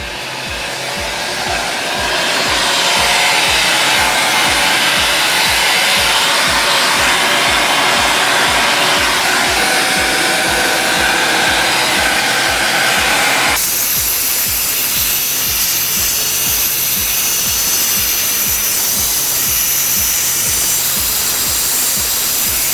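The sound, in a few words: vacuum cleaner cleaning air conditioner heat exchanger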